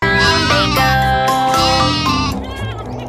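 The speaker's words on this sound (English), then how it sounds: "G for goat." A goat bleats in wavering cries, set over a bright musical backing in a children's song, loud and close throughout.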